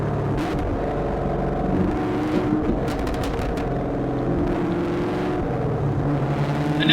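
Engine of a 2019 Camaro SS 1LE with active rev match, a loud, continuous V8 rumble that holds a steady throaty drone with slight rises in pitch, heard close and alone throughout.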